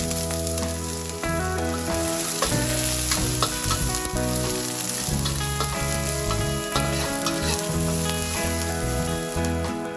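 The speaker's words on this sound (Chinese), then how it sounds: "先把葱、姜、蒜还有青花椒爆香" Scallion, ginger, garlic and green Sichuan pepper stir-fried in a little oil in a wok, giving a loud, dense, continuous sizzle with crackling pops and the rhythmic clatter of a spatula throughout.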